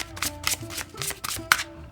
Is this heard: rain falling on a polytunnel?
no